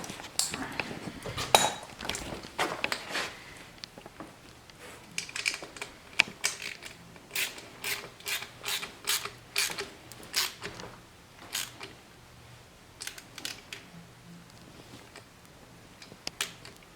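A 10 mm ratchet wrench turns a bolt while a block-off plate is fitted on a Mazda Speed6. Quick clicking bursts come up close, with metallic clinks and pauses between the strokes.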